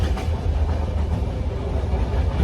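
A passenger train bound for Istanbul rolls along with a loud, steady low rumble and faint rhythmic rattling, heard from inside the carriage with no talking.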